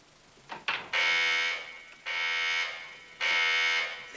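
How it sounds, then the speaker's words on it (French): An electronic alarm system rings in a bedroom with loud, harsh, steady buzzing bursts, three long blasts separated by short pauses, preceded by a couple of brief clicks. "Pourquoi a-t-il mis un système d'alarme ici?"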